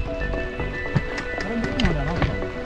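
A horse walks on a mountain trail at Sonamarg, its hooves clopping in an uneven rhythm close by while someone talks over it.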